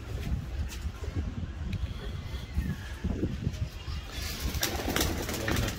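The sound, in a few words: pigeons released, cooing and flapping wings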